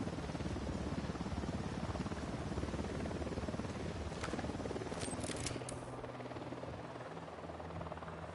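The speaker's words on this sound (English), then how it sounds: "Who need that chopper?" A helicopter in Ghost Recon Wildlands gives off a continuous, steady rotor drone with rapid blade chop, loud and close for the whole stretch, thinning slightly near the end as a few sharp clicks break through.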